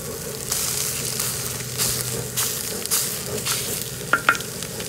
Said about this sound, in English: And start griddling this up.